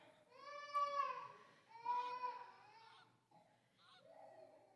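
Geese honk in a few long, nasal calls with gaps between them, clear and moderately close against a quiet background.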